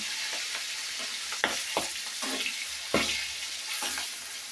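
Air fish frying in hot oil gives a steady crackling sizzle broken by several sharp spattering pops, close and fairly loud, with no voices.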